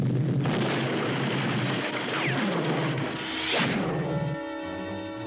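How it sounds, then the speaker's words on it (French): Cartoon explosion in a Smurfs episode: a loud, broad rumbling blast with whooshing, swirling sweeps that fades into a tonal ringing tail. "Ça va bientôt exploser!"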